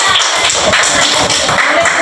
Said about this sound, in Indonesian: Ayo tepuk tangannya.